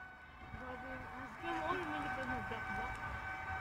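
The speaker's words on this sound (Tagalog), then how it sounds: "Yan ang ambulance, oh." An ambulance siren at a fire, its wavering wail rising and falling at a distance beneath the noise of people talking nearby.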